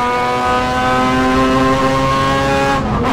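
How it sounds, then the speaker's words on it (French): Inside a Mazda prototype race car on track, the rotary engine screams loudly and steadily at high revs in fifth gear, then briefly dips as the throttle lifts near the end. "Qu'est-ce que ça gueule dans la voiture? Le moteur rotatif, c'est incroyable"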